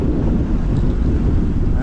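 Strong headwind buffets the microphone on a boat cruise out to the Oak Island lighthouse, a steady low roaring rumble with no let-up, alongside engine and water noise.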